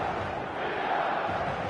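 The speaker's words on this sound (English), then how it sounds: "Such scenes here, a sea of team colours, songs ringing down from the stands." Stadium crowd noise from the stands before a football match, likely from a video game, forms a steady, dense roar with a hint of massed singing, even and continuous throughout.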